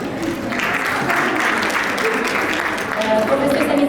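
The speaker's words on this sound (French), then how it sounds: "un applaudissement, s'il vous plaît." Audience applause at a university conference, a dense, steady wash of many hands clapping with voices faintly mixed in.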